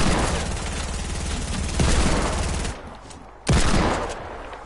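Rapid gunfire in a video game firefight, dense automatic bursts that fill the clip, drop off briefly and then resume loudly.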